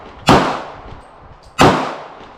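Two loud, sharp gunshots from a Smith & Wesson SD40VE pistol, spaced about a second apart, each followed by a short ringing decay outdoors.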